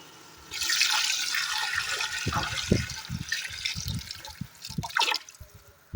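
Water pours into a cooking pot for mutton pulao in a steady splashing stream, with a few louder gurgles and drips near the end.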